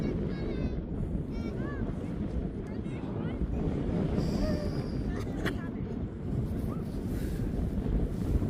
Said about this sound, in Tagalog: Sobrang hangin, di ba? Maririnig nyo yan.